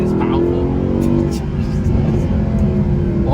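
A deep, powerful Mercedes-Benz AMG SLS engine roars and revs continuously at close range, its throaty rumble staying loud throughout with slight swells in pitch.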